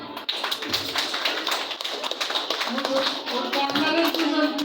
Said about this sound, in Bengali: আপনার দেখি সবার হাত তালি দেখি